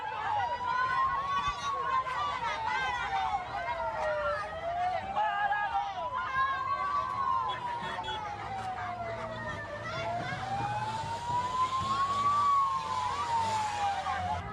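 Wailing ambulance siren rising and falling in slow, loud sweeps outside a prison as ambulances and a fire brigade vehicle leave under police escort, with a busy crowd and traffic murmuring beneath it.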